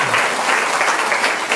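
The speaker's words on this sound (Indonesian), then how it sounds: "Kita tepuk tangan dulu" Audience applause at the inauguration of a regional hospital in Nikiwar district, a steady wash of many hands clapping at close range, sustained through the whole moment with no voices over it.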